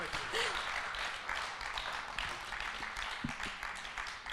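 Faint, dense applause for a doctor couple honoured as COVID warriors, a steady wash of clapping with no voices over it.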